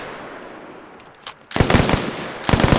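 Rapid automatic gunfire in the ARMA Reforger military shooter, heard as two loud, close bursts of dense overlapping shots after a quieter stretch with a single brief shot.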